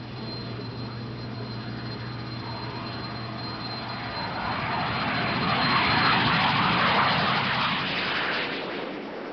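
An L-29 jet trainer takes off, its engine a steady roar that swells to a loud, rushing peak midway and then eases slightly as it continues, heard alone without talk.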